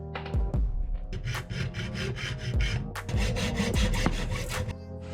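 Hand sawing through metal stock for a homemade Batman batarang, a steady rhythmic series of close rasping back-and-forth strokes with brief pauses between bursts, no voices.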